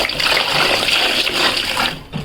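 Water gushing and splashing steadily as a large batch of potatoes is washed for making chips, a loud close rush that tapers off at the end.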